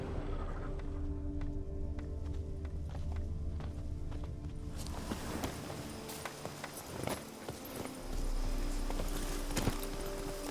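Hooves of a horse clip-clop at a steady gait in The Witcher 3: Blood and Wine, fairly close over a continuous ambient game music bed, the rhythm becoming more distinct partway through.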